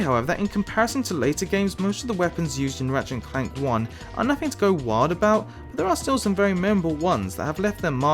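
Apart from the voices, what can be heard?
None of the usual background noises is heard.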